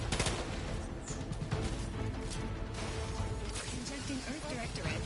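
Weapons fire in the game Outer Worlds 2 during an explosives-heavy fight with robots, rapid overlapping shots and crashing impacts rolling on without pause, with a voice talking over the din.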